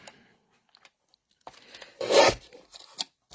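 Paper card being trimmed for a stepper fun fold card, with small scattered snips and scrapes and one louder rasping crunch of the cut in the middle, close and otherwise quiet.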